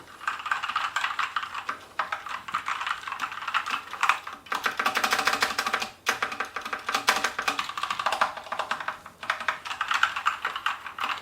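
Rapid, steady typing on a Sharkoon Skiller Mech SGK1 mechanical keyboard with red linear switches, close and fairly loud, with clacking keystrokes in continuous bursts and a brief pause partway through.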